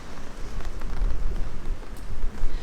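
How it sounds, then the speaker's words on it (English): Rain patters on an umbrella by a sheltered harbour with yachts in Mallorca on a cold April day, a steady close hiss of drops with wind rumble underneath. "you can hear the rain on my umbrella"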